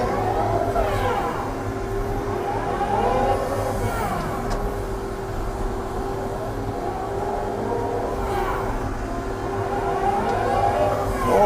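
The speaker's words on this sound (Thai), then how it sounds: "นี่ ฟังเสียงเบรกเนาะ" Old Komatsu PC120-3 excavator swinging and braking, a steady loud engine drone with a sustained whining tone and recurring sweeping pitch changes as the upper structure swings and stops.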